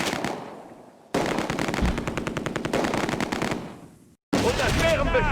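Machine gun fire from the video game Close Combat: A Bridge Too Far rattles in long rapid bursts, loud and close, broken by short gaps and a sudden cutoff before a final burst.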